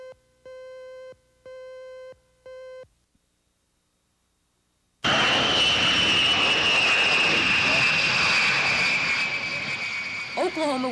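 A jet aircraft arriving at Tinker Air Force Base in 1982: three steady electronic tones and a pause, then a loud, sustained roar of jet engine noise with a high whine that tapers slightly near the end.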